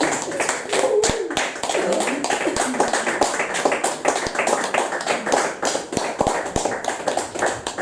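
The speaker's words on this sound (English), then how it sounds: "More applause, please." Steady applause from an audience, dense clapping throughout with a few sharper individual claps standing out.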